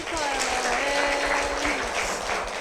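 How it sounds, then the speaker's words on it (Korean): A church congregation at a Korean worship service breaks into dense, steady applause that holds evenly throughout, with a voice speaking over the clapping. "우리 박수로 한번 쳐드리고 싶어요"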